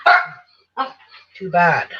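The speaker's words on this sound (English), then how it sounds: "she's barking at somebody or something" A pet dog barks and yips several times close to the microphone, with short sharp bursts separated by brief pauses, and a person speaks briefly in between.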